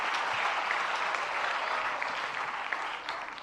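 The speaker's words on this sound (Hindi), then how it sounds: "जरा सभी मिलकर जोरदार तालियां।" Loud, dense applause from a gathered audience, steady clapping that carries through and eases off slightly at the end.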